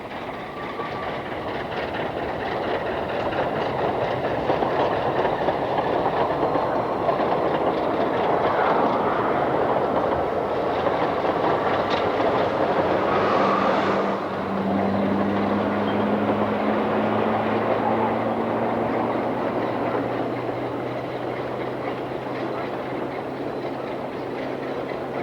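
A steam train rolls steadily along the Ffestiniog Railway past back gardens, a continuous loud rumble and rattle with a sustained whistle-like tone rising in the second half.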